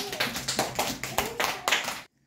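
A group of children in a classroom clap together in a quick, rhythmic burst of about nine beats, fairly close, stopping abruptly after two seconds.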